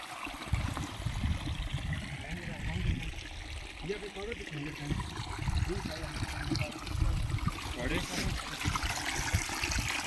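Water trickles and splashes steadily in a rocky stream near a waterfall, a continuous close rush of flowing water with people talking at times over it.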